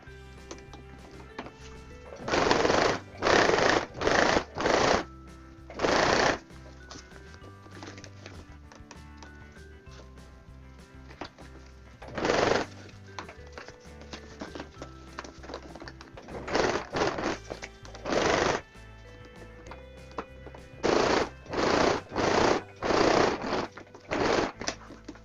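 A sewing machine stitches a zipper seam on a folded-bottom fabric pouch in bursts of rapid whirring, each run lasting about a second, with quieter pauses and handling between them.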